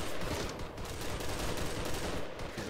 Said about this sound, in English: I'm gonna go lay covering fire.